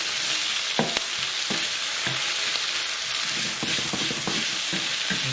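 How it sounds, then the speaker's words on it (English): Garlic and ginger paste sizzles steadily in a hot pan for a lamb and chicken balti, a constant bright frying hiss with occasional soft stirring knocks, close and alone. "As soon as you put that garlic and ginger paste into the pan, that gives off a very strong potent that."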